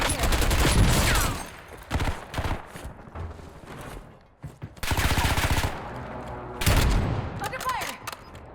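Bursts of automatic gunfire in the video game Warzone, loud and sustained with dense rapid shots in several volleys and brief gaps, mixed with game sounds and a voice talking.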